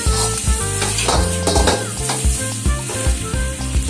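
Egg schezwan noodles frying in a hot pan, a loud continuous sizzle with metallic clanks and scraping stirs throughout, close up.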